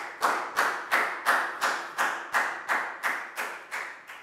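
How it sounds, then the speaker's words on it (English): A primary school class claps for a classmate in a steady rhythmic beat, about a dozen evenly spaced group claps in unison, each with a short decay, close by and without talk. "High five and a big round of applause for Pat"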